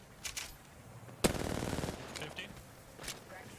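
Gunfire from Apex Legends, with a few scattered shots followed by a sudden sustained automatic burst of about a second, then fainter sporadic shots afterward, set against quiet game background.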